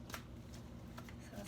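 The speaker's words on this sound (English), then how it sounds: "let's get some shuffling happening here" A deck of tarot cards being shuffled in a quiet room, giving soft papery riffles and taps in short bursts over a low steady background.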